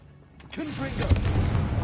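A Confringo blast spell in Hogwarts Legacy lands as a short, punchy burst of booming impacts and crackle. It rises after a quiet half-second and holds loud to the end.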